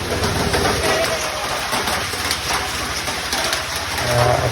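Rain falling steadily during a Dashain festival gathering, a dense continuous patter heard up close, with a few faint bird coos and other faint sounds mixed in.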